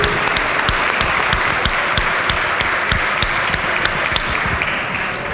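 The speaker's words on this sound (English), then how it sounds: "everybody give them a round of applause" Sustained applause from a crowd in a state legislature chamber, dense and steady with sharp individual claps standing out, held at an even level throughout.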